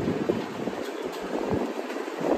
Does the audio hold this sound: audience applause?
no